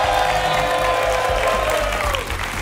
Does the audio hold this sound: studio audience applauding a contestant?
yes